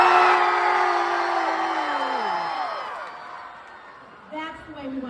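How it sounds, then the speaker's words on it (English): A large crowd of high school students at the opening of a fundraiser marathon dance screams and cheers loudly, a sustained roar of whoops and yells that slowly fades before a fresh burst of shouting near the end. "I need you to scream to the rooftop so they know exactly how excited we are this evening"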